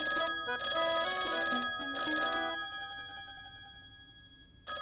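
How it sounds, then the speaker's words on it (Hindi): An old-style telephone bell rings in a household scene, two bright metallic bursts of ringing followed by a lingering fading ring before falling silent. "नैना, जाके फोन उठाना"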